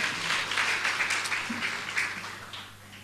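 A church congregation claps and cheers together, a dense continuous wash of applause with scattered shouts, steady for a few seconds and then easing slightly, heard from within the room.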